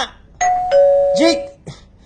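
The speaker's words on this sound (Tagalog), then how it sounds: "May doorbell sa gwa." A doorbell chimes with two clear electronic tones, ringing out near and loud, with a voice calling briefly around it.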